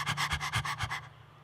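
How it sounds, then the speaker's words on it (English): A street dog pants close by in a quick, even run of about eight breathy huffs before falling quiet. "It was a street dog."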